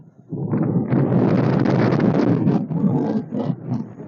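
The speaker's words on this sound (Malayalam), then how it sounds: "കാറ്റ് കൊണ്ട് നിൽക്കാൻ പറ്റില്ല കൂടുതൽ നല്ല കാറ്റുണ്ട്" Strong wind roars and buffets the microphone in heavy, continuous gusts on the summit of Kunnam Pittari Hill, Chittoor, Palakkad, easing off briefly toward the end.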